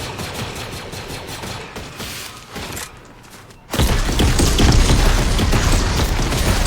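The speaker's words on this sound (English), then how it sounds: "Who's shooting him?" Gunfire in a Fortnite ranked Zero Build match: scattered shots and thuds sit under quieter game noise, then a sudden loud burst of close firing and impacts takes over for the remaining seconds.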